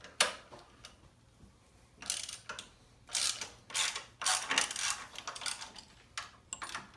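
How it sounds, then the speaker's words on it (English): Hand tools work the pinch bolts on a Harley Davidson front fork, giving scattered metallic clicks and ratcheting clinks in short bursts with quiet gaps, close by and fairly soft, with no voices. "loosen the pinch bolts and pull the assembly down"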